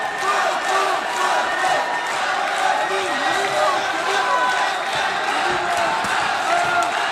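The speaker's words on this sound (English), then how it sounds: "Crowd very much behind Issa here tonight." A dense fight-night crowd roars and cheers steadily throughout, backing Muhammad Issa, with a commentator's voice running over the noise.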